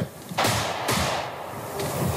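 Live-fire rifle shots at a military training exercise, three sharp reports spaced about half a second to a second apart, loud and echoing over open ground.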